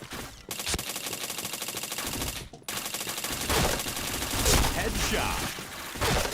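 Gunfire in a shooting video game: loud, rapid bursts of automatic fire that run almost nonstop, broken only by a couple of brief gaps.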